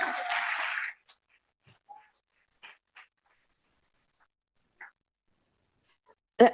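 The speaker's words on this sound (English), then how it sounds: "A little more applause, please." A conference closing plenary audience claps in a brief, dense burst lasting about a second, then it cuts off into near silence broken by a few faint scattered noises and a sharp knock at the very end.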